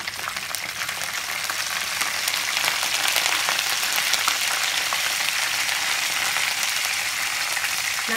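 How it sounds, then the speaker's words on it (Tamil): Asafoetida and curry leaves fry in hot sesame oil for a tamarind rice mix. A close, continuous crackling sizzle builds slightly and then holds steady, with no talk. "நல்லெண்ணெய் இதிலே இந்த காயம் எப்படி பதிங்கிறது பாருங்கள்"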